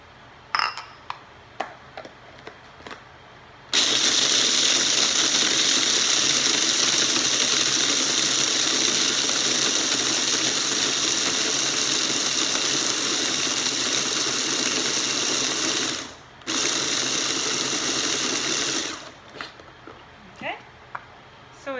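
Electric grinder milling bird food pellets into a fine flour, a loud steady whir running continuously for about twelve seconds with a brief stop and restart, bracketed by quieter handling clicks.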